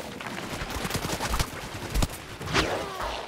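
Scattered shots from the video game Plants vs. Zombies Garden Warfare, fired as a sniper picks off players, come as short sharp cracks spread across a few seconds over busy background game noise.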